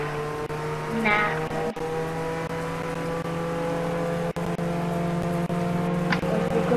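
Car drifting in the Roblox game Jailbreak: a steady droning engine tone holds throughout, with a brief rising screech near the second second, close and loud, under game music.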